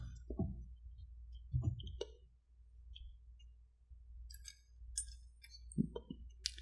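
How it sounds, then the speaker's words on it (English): A set of Subaru car keys is handled up close in a hushed room, giving scattered soft clicks and small metallic clinks separated by near silence. "Here we have a set of keys, a set of car keys made by the brand Subaru."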